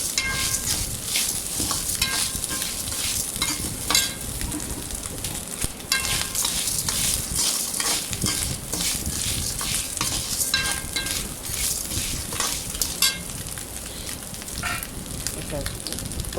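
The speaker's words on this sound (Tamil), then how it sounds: "துவையலுக்கு தேவையான எல்லாம் போட்டு நல்லா வறுத்தாச்சு." Grated coconut, garlic, tamarind, salt and asafoetida frying in a pan for a black urad dal chutney, with a steady close sizzle under frequent scraping stirs of a spoon and no talk.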